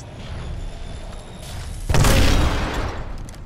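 A grenade blast in a first-person shooter game, a deep heavy boom bursting in midway through a stretch of low rumbling battle noise and then rolling out slowly.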